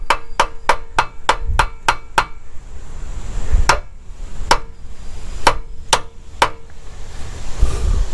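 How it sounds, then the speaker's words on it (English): Stuck carburetor float bowl being tapped with a metal tool to free it, a rapid run of sharp close knocks followed by scattered single taps at irregular intervals. "Sometimes you can just tap that and it'll come loose."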